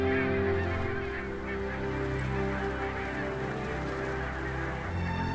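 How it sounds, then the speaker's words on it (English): A flock of barnacle geese on winter pastureland along the Elbe honks continuously, many overlapping calls forming a dense, moderately distant chorus with no speech. "Barnacle geese arrive in autumn from their Arctic breeding grounds to spend the winters in the Elbe pastureland"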